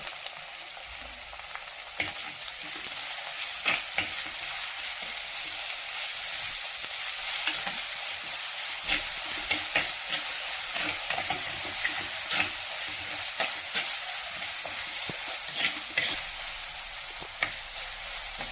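Crushed ginger and garlic frying in hot oil for a fish curry, a steady close sizzle with repeated scrapes and taps of a spatula stirring, continuing for a long stretch without speech.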